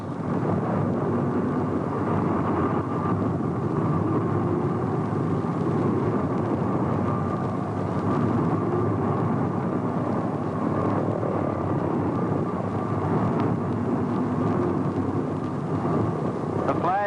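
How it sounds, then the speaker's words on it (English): A wartime bomber taxiing at the Willow Run bomber plant, with a steady, loud engine and propeller drone that holds evenly throughout, broad and rumbling. "as we taxi to this berth, we pass just part of a day's production waiting to be tested by Ford pilots"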